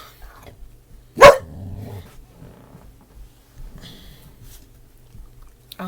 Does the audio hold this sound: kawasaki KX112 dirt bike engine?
no